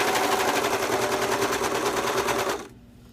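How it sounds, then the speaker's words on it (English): A serger overlocking the edge of tee shirt fabric, a rapid loud mechanical rattling hum running steadily up close, then stopping abruptly. "serging it in place"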